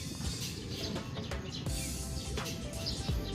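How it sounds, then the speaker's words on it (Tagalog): Several birds call at once in a backyard during a bird race event in Moncada, Tarlac, a dense, continuous clucking and chirping chorus at close range with no talk. "nagkasabay-sabay ibon natin"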